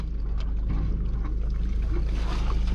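Boat engines warm up on a sailing boat at anchor in south-western Alaska, a steady low rumbling throb close by, joined by faint wind and water noise.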